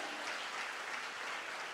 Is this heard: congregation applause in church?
yes